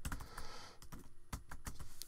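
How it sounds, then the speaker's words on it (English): Typing on a computer keyboard produces quick, uneven bursts of light clicking keystrokes, close and fairly faint, with no speech. "I'm just typing in some random names."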